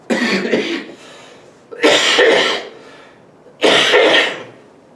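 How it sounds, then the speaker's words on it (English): A lecturer in a classroom coughs three times, each a harsh, chesty burst spaced about two seconds apart, close and loud with quiet room tone between. "Speaker's cough."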